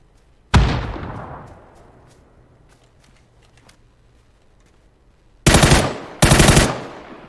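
Automatic gunfire in the PUBG Battlegrounds shooter game: one loud burst opens, then fades into a quiet stretch, and two more sharp, close bursts follow near the end.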